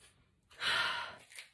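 A single close, breathy inhale through the nose sniffing a scented wax, a soft airy sniff lasting about half a second, with quiet room tone before and after.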